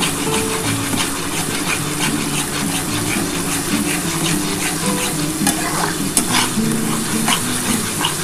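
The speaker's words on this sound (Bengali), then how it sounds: "খুব ভালো করে কিন্তু মশলাটা কষিয়ে নিতে হবে" Spice masala stir-fried in a pan for a soybean and red lentil muitha dish, a steady loud sizzle with repeated scraping stirs throughout, no voices.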